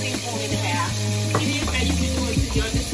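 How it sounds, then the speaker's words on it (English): Spoon stirring a seafood sauce of Worcestershire and honey in a bowl, with soft, irregular clinks and scrapes over a low steady background hum, close and without speech. "I'm just going to stir this up"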